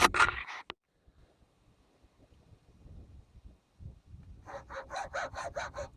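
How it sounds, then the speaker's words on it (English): A hand saw cuts a chamfer off a wooden piece for an old schoolhouse loom. A few quiet, scattered scrapes come first, then a run of about seven rhythmic rasping strokes, close and clear, with no talk. "I'll saw its chamfer off with a support this time."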